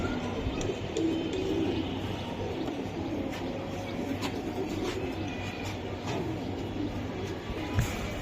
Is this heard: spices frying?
no